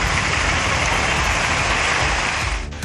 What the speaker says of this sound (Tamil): புதுக்கோட்டை மாவட்டத்தில் மாநகர் பகுதிகளில் 1 மணி நேரத்திற்கு மேலாக கனமழை பெய்தது.